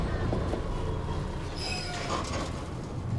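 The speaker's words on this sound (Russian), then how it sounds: "Поезд." A train in the video game Dishonored: a steady, dense rumble of rolling wagons with faint metallic squeals, continuous and fairly loud throughout.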